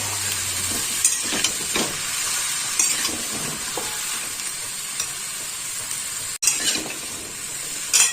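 Spices being stirred into Malabar spinach and shrimp frying in a pan: a steady close sizzle and hiss with spoon scrapes and clinks throughout, no voices.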